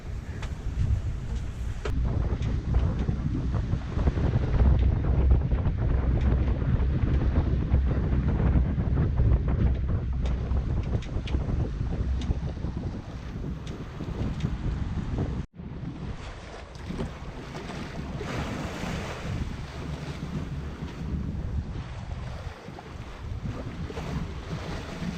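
A sailboat runs under all three sails at around five knots, and a steady roar of wind buffets the microphone over the constant wash of waves against the hull, briefly cut at one point.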